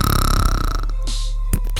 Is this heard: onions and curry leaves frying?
no